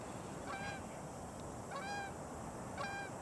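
A goose flying over a neighborhood near Beaumaris Lake in Edmonton gives three spaced honks, moderately close, over steady outdoor background noise.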